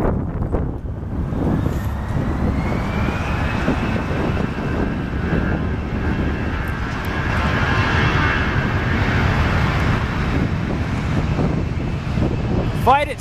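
A Saab airplane's engine drones steadily throughout, mixed with gusty wind buffeting the microphone; a rising whine enters midway, and voices can be heard faintly in the background.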